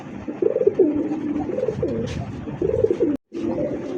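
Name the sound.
pigeon cooing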